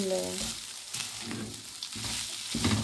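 Leftover meat sizzling in a pan with kofta spices for homemade shawarma, an uneven frying hiss broken by stirring scrapes and spoon clatter, with a faint tone at the start.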